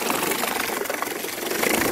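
A small solar-powered electric boat motor runs at its second speed in a shallow tub, giving a close, steady, buzzing whir that holds constant for the brief moment without a pause.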